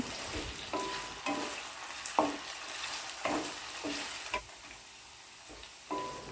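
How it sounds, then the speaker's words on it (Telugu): Potatoes sizzle steadily in hot oil while a utensil scrapes and stirs them in repeated strokes, with occasional sharper clinks against the pan. "ఆయిల్లో ఆలుగడ్డలు వేసి అటు ఇటు కలపెట్టాలి"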